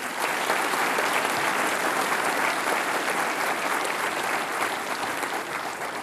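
A university graduation audience gives sustained applause for graduates, a loud, dense, even roar of clapping from a large crowd, continuing throughout without talk.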